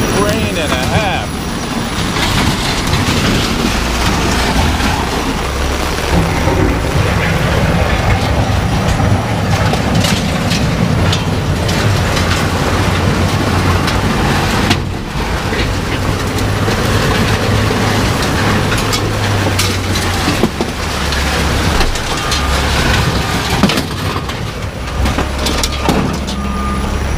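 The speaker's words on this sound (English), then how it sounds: "is rain and a half." Heavy rain falls steadily outdoors during trash picking and scrap collecting, a dense constant wash with a low vehicle-like rumble beneath, loud and unbroken throughout.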